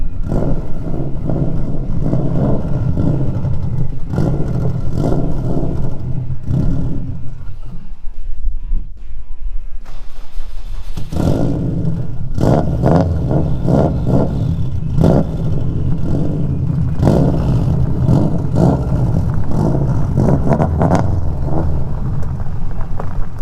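A car engine runs loud and close while the car backs out, with a steady rough idle and revving, a sudden drop and near-stall around the middle, then the engine catches and revs again with clattering.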